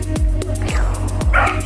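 Beagle puppies bark and yip in quick, loud, close bursts, about five sharp barks in a row with brief gaps between them.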